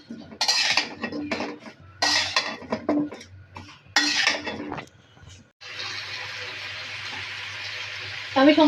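Cauliflower and potato pieces, coated in turmeric, fry in a home kitchen pan for a Bengali rohu fish curry. Bursts of clatter and stirring give way to a steady, close sizzle, with a sharper rise of crackling at the end.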